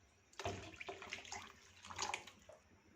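Water is poured into a jug and stirred for a kadhi mixture, giving faint, close sloshing and swirling with a few quick splashy bursts.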